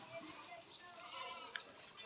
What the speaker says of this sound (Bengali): দেখেন পাটি ছাগল, এটা বিটলের ক্রস।